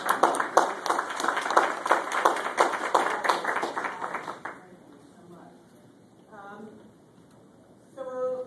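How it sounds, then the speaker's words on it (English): An indoor audience at a tech education talk breaks into loud, steady applause that carries for several seconds, then fades out to quiet murmurs and a few voices. "Give them another applause."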